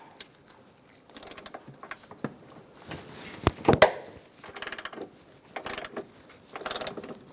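Ratchet and socket cracking loose a front strut bolt on a 2004-2009 Mazda 3, with irregular ratcheting clicks and metallic clunks spread across several seconds, a sharp knock near the middle, no voices.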